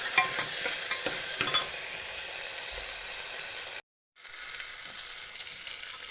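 Turmeric, red chili, salt and tomato stirred in a hot pan, a continuous close sizzle with spoon scrapes and clinks early on, briefly cut to silence before the sizzling resumes.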